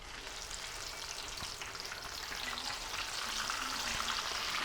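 Eggplant frying in plenty of oil in a kadhai, a constant crackling sizzle that swells slightly louder over time, with a few faint clinks, near and steady.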